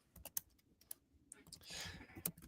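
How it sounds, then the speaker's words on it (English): Rapid clicks of a computer keyboard being typed on come in quick irregular bursts, close and faint, with a brief stretch of louder noise partway through. "I see you typing away over there."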